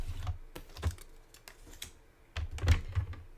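A paper trimmer slicing cardstock to a 2-inch width, heard as a few short dry clicks and scrapes spaced irregularly, close and fairly quiet, with nothing else around them.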